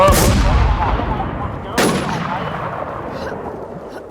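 Gunfire in the online survival shooter game WarZ: two sharp shots, the first with a long rolling tail and a second loud crack near the two-second mark, each decaying into lingering echo.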